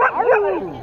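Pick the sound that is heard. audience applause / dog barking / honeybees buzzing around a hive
dog barking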